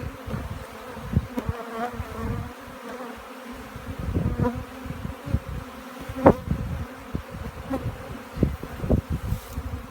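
Steady buzzing of many bees close by, a continuous droning hum with individual insects swelling louder as they pass near.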